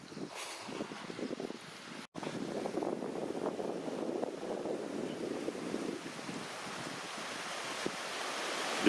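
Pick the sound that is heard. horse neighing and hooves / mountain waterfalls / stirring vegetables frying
mountain waterfalls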